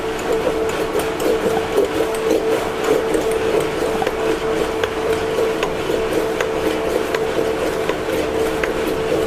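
Iced green tea mint drink with creamer shaken hard in a shaker, a steady rattling churn with a constant hum, continuous and fairly loud throughout, with no talking.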